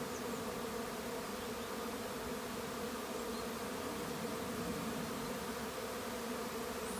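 A honey bee swarm moving into a second hive surrounds the listener with a dense, steady buzz from countless bees, close and unbroken, with no voices.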